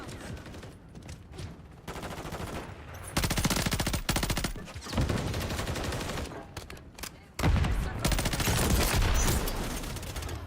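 Automatic fire from a BP50 assault rifle converted into an SMG in Warzone, loud rapid bursts in several long strings separated by short pauses, with game sounds in between.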